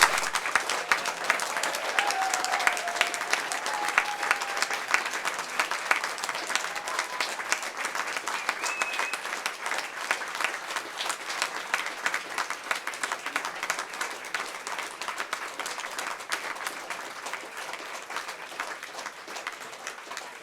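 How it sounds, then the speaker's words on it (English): A large audience gives sustained applause at a surgeons' diplomate ceremony, dense clapping that carries on for about twenty seconds and slowly thins toward the end. "a very, very big round of applause to all these wonderful people who worked so hard to get these exams and become diplomates today"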